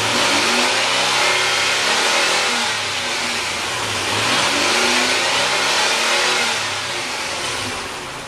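A car engine fitted with a Volant cold air intake revs up and down in two broad swells, rising and falling in pitch, loud and close with a steady intake roar and no talk.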